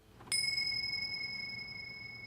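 A single bright bell strike rings out and then sustains with a clear, slowly fading metallic tone in an otherwise quiet setting.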